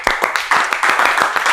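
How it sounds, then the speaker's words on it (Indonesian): Audience applause at a Sundanese-Indonesian talk-show episode, a steady run of quick hand claps from a small crowd close by, filling the whole moment without speech. "Sebelumnya tepuk tangan dulu untuk kita semua."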